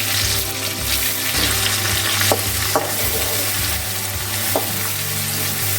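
Onions fry in hot oil in a pan for a traditional Tamil village fish curry, giving a loud, continuous sizzle broken by a few sharp scrapes of a stirring spoon.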